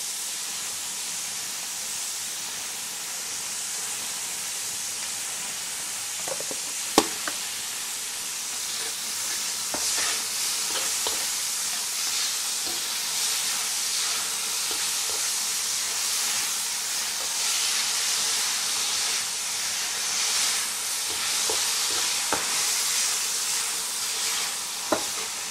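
Fried rice with Chinese cured meats stir-fried in a hot wok gives a steady soft sizzle and hiss, broken by occasional clinks and scrapes of the spatula, moderately close and without talk.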